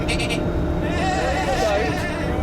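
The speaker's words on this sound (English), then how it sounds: "Yes, goats. Goats. Yes, yes, not sheep." Goats bleating in a series of wavering, nasal calls over a steady noisy background, with faint voices mixed in.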